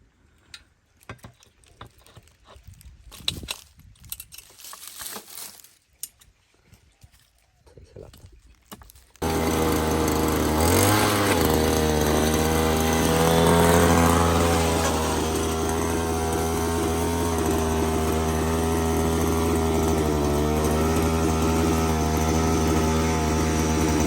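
A petrol earth auger with a thick drill bit bores into soil, its engine starting up after a stretch of quieter rustling and then roaring loud and steady, running continuously close by.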